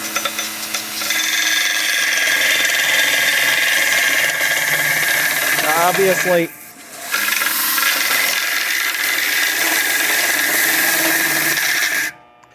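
A small 1x30 belt grinder with a weak motor runs steadily, giving a loud, continuous abrasive rasp as metal is pressed against a flat platen, briefly dropping out mid-way as the motor loads up before resuming until it stops.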